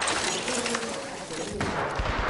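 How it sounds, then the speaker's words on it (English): Gunfire in a first-person shooter game, a dense run of sharp shots and cracks layered through constant battlefield noise and radio-style chatter, loud and continuous throughout. "They're firing on me."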